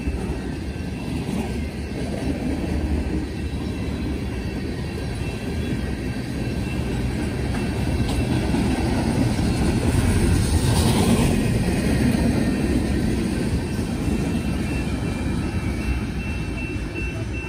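A freight train hauled by a GE AC44 locomotive rumbles past in a long, steady roar of engine and rolling wagons that swells midway, with faint talk in the background.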